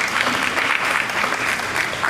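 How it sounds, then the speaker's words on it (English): Loud, dense audience applause at a public commission hearing at Queens Borough Hall, steady crowd clapping that holds throughout with no one speaking over it. "So let's give him a big round of applause"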